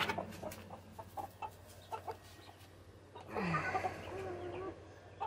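Broody Polish, Cochin and Silkie hens cluck in a coop, with short soft clucks spaced through the first few seconds, followed by a longer, louder murmuring cluck nearby.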